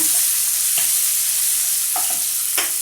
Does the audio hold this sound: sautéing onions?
yes